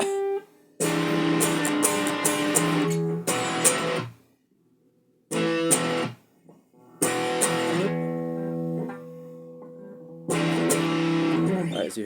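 An overdriven electric guitar plays the intro riff of a rock song in loud bursts of ringing chords separated by short silences, close and unaccompanied.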